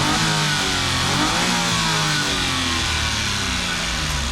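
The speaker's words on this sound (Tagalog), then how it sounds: "So yan yung andar ng makina natin." A Suzuki DA17V multi-cab, 2015-or-later unit with a custom body kit, its small engine revving up and settling in loud, close, rising and falling sweeps with no talk over it.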